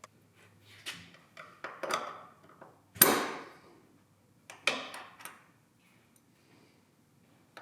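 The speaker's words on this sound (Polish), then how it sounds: "Wybijamy starą sprężynę zawiasu." A flat screwdriver knocks an old hinge spring out of a roof-window hinge, giving several sharp metallic taps and clicks in irregular bursts, one strike clearly louder, with quiet gaps between them.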